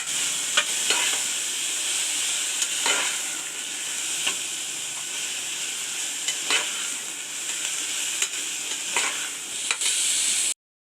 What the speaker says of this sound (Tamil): நல்லா பச்சை வாசனை போகிற வரைக்கும் நல்லா வதக்கி செய்யுங்க